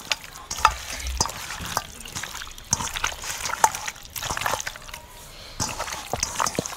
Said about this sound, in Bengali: প্রত্যেকটা মাংসের গার মধ্যে দইটা দিয়ে ভালোভাবে মেখে নেব